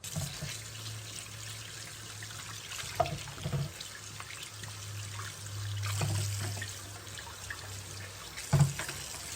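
Lamb chops are rinsed under a running kitchen faucet, giving a quiet, steady trickle of water with a few soft knocks and splashes at the sink.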